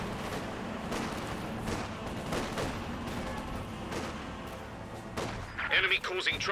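Cannon and gunfire from the Company of Heroes 2 World War II strategy game, a steady dense rumble of distant booms and shots throughout, with a sharper, louder burst of blasts near the end.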